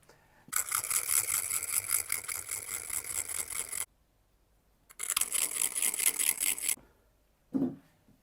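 Harsh, close rasping strokes of a dart tip being sharpened, in two long bursts separated by a pause, followed by a short dull knock.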